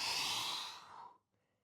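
A single long, airy exhale during a stretching workout, close and soft, trailing off into near silence with a faint rustle at the end.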